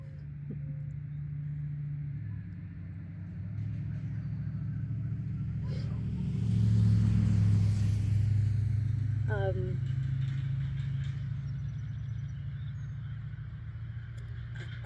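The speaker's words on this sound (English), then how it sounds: "there's a car coming." A big, loud car approaches and passes on the road, a steady low rumble that swells to a peak midway and then slowly fades.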